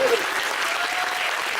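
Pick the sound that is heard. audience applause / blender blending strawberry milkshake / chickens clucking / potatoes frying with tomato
audience applause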